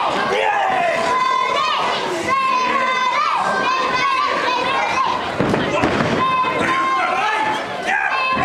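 A packed crowd at a Gen Pro Wrestling show in the Snodland Centre roars and shouts continuously and loudly, with excited children's voices, cheering, and thuds mixed into the dense, steady wall of noise.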